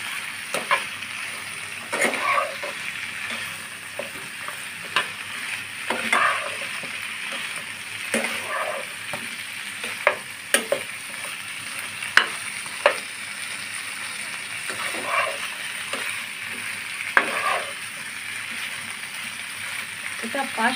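Pointed gourd (potol) frying in a pan, a continuous close sizzle broken by occasional stirring clatters, with a voice talking at times over it.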